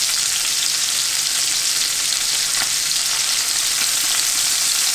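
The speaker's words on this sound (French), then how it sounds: "je vais faire revenir mon saucisson à l'ail" Sliced garlic sausage sizzles in a pan with no added fat, producing a loud, steady, close hiss of frying that runs the whole time with faint crackles and no voices.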